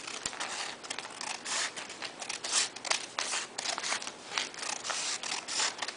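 Scissors snip a folded paper strip lengthways, a quick run of close, crisp cutting strokes and rustling paper, fairly quiet and with no talk.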